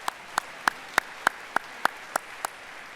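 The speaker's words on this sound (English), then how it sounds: "A round of applause for all of them." Nine sharp, evenly spaced hand claps ring out at a slow, steady rhythm in a quiet conference hall after a morning session, sounding like a sparse, thin round of applause rather than a full crowd.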